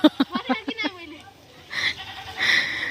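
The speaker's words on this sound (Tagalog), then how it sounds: "si RJ gusto niya rin hawakan yung kambing" A goat bleats in a wavering, stuttering cry up close, followed by children's voices and chatter nearby.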